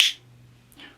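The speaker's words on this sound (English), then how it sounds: "If you were to listen to one of these action potentials, it might sound something like this." A single sharp click opens the moment, standing in for one neuron's action potential, loud and close, followed by near silence and a fainter second tick toward the end.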